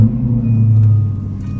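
A 2011 Jaguar XKR with a supercharged 5.0L engine runs just after a cold start, a steady deep rumbling idle heard close and loud, with no voices.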